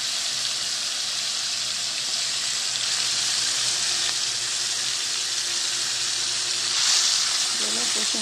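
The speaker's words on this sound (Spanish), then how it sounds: "Acá tengo la sartén con un poco de aceite que voy a guisar mis pechugas." Chicken breasts fry in a pan with oil and a little butter, a steady close hiss and sizzle that runs throughout at an even level.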